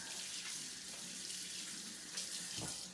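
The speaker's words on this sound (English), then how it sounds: "And let me wash my hands." Water runs steadily from a kitchen tap while hands are washed beneath it, a continuous close hiss with small splashing shifts and no talking.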